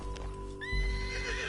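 A galloping horse in the video game Red Dead Redemption 2 whinnies over low, thudding hoofbeats in a brief, close burst.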